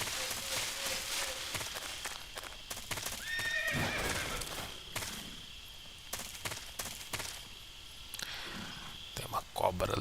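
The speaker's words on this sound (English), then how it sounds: "E um barulho de um cavalo também, né? Um cavalo relinchando ali." A horse neighs and whinnies amid hoof clip-clop in Metal Gear Solid 3 Snake Eater on PlayStation 3, layered with ambient game sounds and occasional talk, with a sharper whinny burst near the middle.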